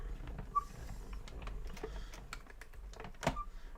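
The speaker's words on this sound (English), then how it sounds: "always put it in your die cutter machine at an angle" A die cutting machine's rollers draw a die through at an angle while making a Christmas card, giving quiet, steady mechanical grinding with scattered small clicks and a sharper knock near the end, with no talk.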